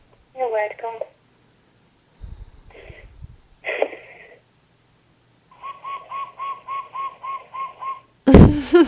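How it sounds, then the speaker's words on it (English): A bird-like whistling plays in short bursts, ending in a run of evenly spaced repeated chirping tones, sounding fairly close and clear against near silence, with brief murmurs of voice between. "Sounds like a bird."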